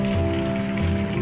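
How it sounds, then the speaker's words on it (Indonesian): Egg otak-otak fries in plenty of hot oil, giving a steady, dense sizzle and crackle close by, with no talking. "Panaskan minyak seperti ini, minyaknya agak banyak, kemudian kita goreng."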